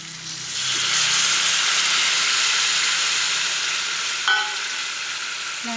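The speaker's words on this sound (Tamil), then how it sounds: "அந்த புளி தண்ணி ஊற்றிக்கலாங்க." Tamarind water is poured into a hot kuzhambu with chili and oil, setting off a loud, sustained hissing sizzle that holds steady for several seconds before easing slightly.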